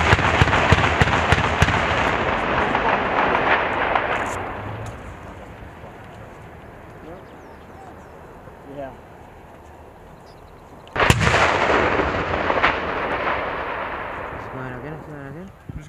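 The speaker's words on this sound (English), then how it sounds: "That tank's a fucking single shot" A tank cannon fires single shots during a Marine and Swedish armored battalion exercise in the Baltic, producing heavy booms with long rumbling decay; one loud blast opens the clip and another strikes near the end.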